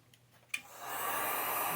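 A heat gun on its low setting blows warm air onto a signal light retaining ring, starting with a click and building to a steady, soft whooshing hiss close by.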